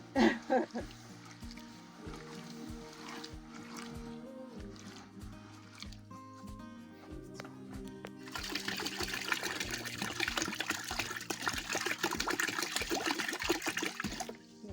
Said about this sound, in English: I am gonna add more water.